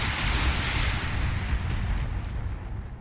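Mech weapons fire together in the BattleTech video game, a dense stretch of booming, rumbling blasts and crackling impacts that holds loud and continuous throughout, with no talk.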